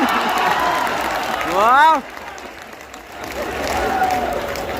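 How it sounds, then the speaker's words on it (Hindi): Listeners at the Siddharth Nagar Mahotsav festival clap in a broad wash of crowd applause. A voice calls out an exclamation partway through, and the clapping eases, then swells again. "और ये उन्हीं लोगों ने ताली बजाई है जो मेरी तरह।"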